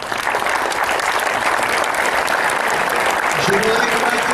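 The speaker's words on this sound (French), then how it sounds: "je voudrais qu'on applaudisse lorsqu'ils vont descendre les marches" Loud, sustained audience applause at the Cannes 2011 festival as guests descend the steps for a screening, with a dense crowd clapping continuously and a faint voice briefly audible near the end.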